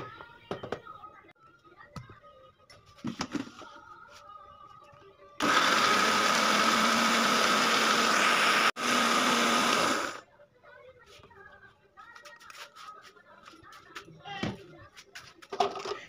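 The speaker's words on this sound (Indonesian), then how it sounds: "Lalu mau saya blender." An electric blender grinding ground coriander and pepper roars loudly for about five seconds, briefly cutting out midway, with quieter kitchen sounds and talk before and after.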